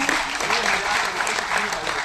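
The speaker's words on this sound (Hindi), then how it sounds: "एक बार उनके लिए भी जोरदार तालियां हो जाए।" Audience at a kavi sammelan, a Hindi poetry gathering, breaks into a short burst of dense clapping, loud and close.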